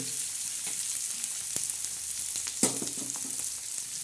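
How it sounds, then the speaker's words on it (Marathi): Onions and green chillies sizzle steadily in hot oil in a pan, with a couple of soft clinks and no talking. "तव्यावर कांदा आणि हिरव्या मिरच्या टाकल्या आहेत तेल टाकून आपण आता यो कांदा मस्त फ्राय होते"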